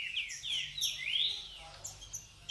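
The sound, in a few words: birds chirping at a bird breeder's aviary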